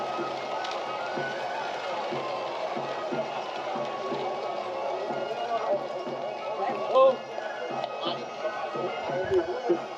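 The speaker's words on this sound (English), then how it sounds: "Look at how close the horses are." Horses passing close by in a street parade outside a pharmacy, with a steady busy wash of hooves, footsteps and crowd noise under nearby chatter, and a brief louder knock near the end.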